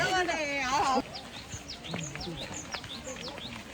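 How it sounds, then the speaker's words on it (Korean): A voice speaks briefly, then small birds chirp and tweet repeatedly in quick, high notes, moderately close, over a soft outdoor background on a mountain trail toward Baegundae. "오, 새소리."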